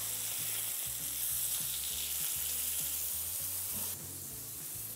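Seasoned venison steak sears in a hot pan, a loud, close, continuous sizzle and crackle that stays steady throughout, with no voices over it.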